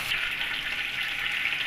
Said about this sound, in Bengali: মাছগুলোকে হালকা ফ্রাই করে নিয়েছি।